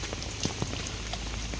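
Rain falling outdoors in the provinces, a steady close patter of drops striking a surface with scattered sharper splats, alone without voices.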